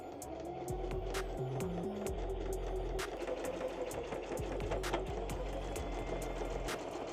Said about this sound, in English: Now that we have everything cut out, it is time to sew.